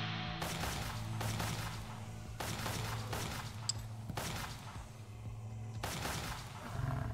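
An automatic weapon firing in Westland Survival, repeated bursts of rapid shots in several separate volleys at moderate volume over a steady game background hum.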